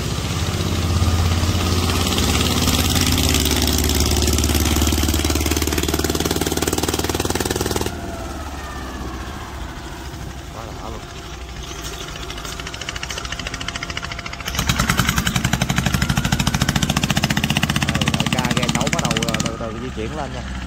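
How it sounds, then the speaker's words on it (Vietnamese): A large rice-husk cargo boat's engine drones and rumbles as the boat rises through the Cái Bé canal lock in Vietnam, a loud, steady mechanical roar that shifts in texture partway through, with someone talking over it. "chiếc ghe đang lên nữa nè"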